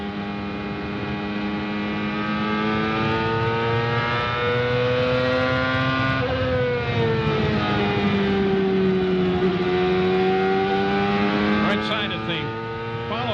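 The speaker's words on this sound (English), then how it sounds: "See how the engine sounds." Steady, loud CART race car engine drone from onboard in 2001, holding a buzzing harmonic tone that dips and rises slightly as the revs change.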